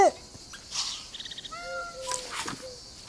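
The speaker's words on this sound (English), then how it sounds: "I just heard a cat." In the wildlife adventure game Alba, a faint cat meow comes in amid chirping birds and light ambient game sounds, with a brief bit of talk near the start.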